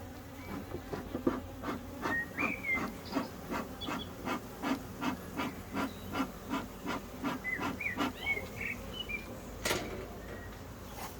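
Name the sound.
honey bees in an opened hive colony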